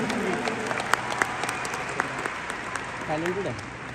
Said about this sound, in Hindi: एक बार इस बात के लिए भी तालियां बनती हैं